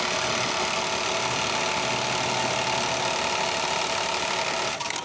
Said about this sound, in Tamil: இந்த மாதிரி பார்டாக் மிஷின்லையும் தைக்கலாங்க